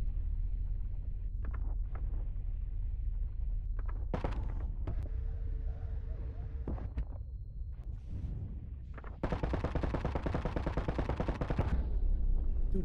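Gunfire in the astronaut shooter Boundary, with scattered sharp shotgun blasts early on giving way to a sustained burst of rapid, rattling automatic fire near the end, loud and close over a constant hum.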